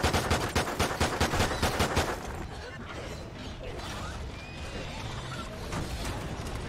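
Rapid automatic gunfire in Call of Duty: a fast, loud stream of shots for about two seconds, then a dense, noisy wash of battle sounds that carries on steadily.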